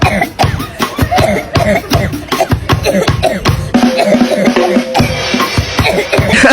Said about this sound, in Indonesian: Batuk parah udah tuh.